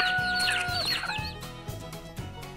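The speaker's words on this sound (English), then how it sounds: "The cutest little chick that you ever did see was Little Chicken Yellow Fluff." Chicken sounds in a cartoon farm scene, with high chirping peeps and clucks up front, followed by several short, sharp hits set against a background of music.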